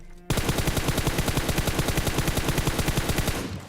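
Rapid automatic gunfire in the video game PUBG rattles in a fast, even burst of many shots, loud and close, running for a few seconds.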